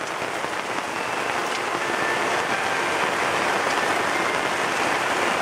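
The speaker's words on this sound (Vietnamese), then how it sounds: "Trời mưa kinh khủng lắm." Heavy rain pours down steadily and loudly, a dense, unbroken hiss of drops drumming on surfaces throughout, with no voices.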